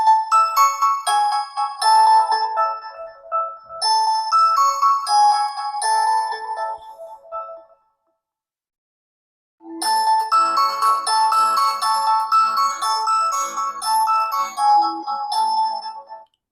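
An Infinix Hot 50 phone plays a bright, chiming ringtone through its built-in speaker in two melodic bursts separated by a brief silence, clear and close with no talking over it.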